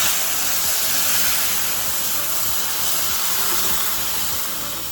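Milk poured into roasted vermicelli in hot ghee gives a steady, close, broadband sizzle and hiss that holds evenly for several seconds, with faint scraping clinks underneath.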